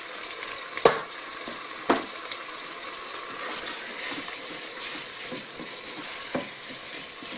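Smoked ham pieces sizzle and fry in a multicooker pot, a steady close crackle with a few sharp clatters from stirring near the start, and no talking.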